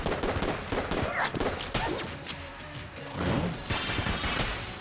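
Rapid gunfire from the video game Enter the Gungeon, dense overlapping bursts of shots and impacts filling the whole stretch, loud and busy with in-game effects.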